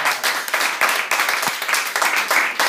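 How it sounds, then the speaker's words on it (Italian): Applause from the audience at a pre-final press conference, a steady burst of clapping from a group that keeps up for several seconds at a moderate, fairly close level. "E facciamo noi un applauso."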